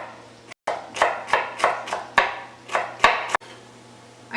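Three sticks of celery chopped into small pieces on a cutting board, about a dozen crisp knife strikes in a steady rhythm, close and clear, with a low background hum.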